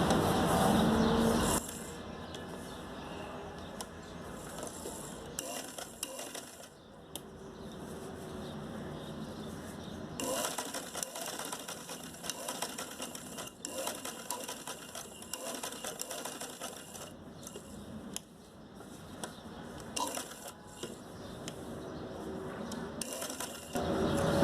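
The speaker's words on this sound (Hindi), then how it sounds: "इस तरीके से यहाँ से हम सिलाई लगाना शुरू करते हैं।" A sewing machine stitches along the edge of a homemade cloth face mask, a steady mechanical whirr running nearly the whole time with brief pauses and small shifts in speed, close and moderately loud.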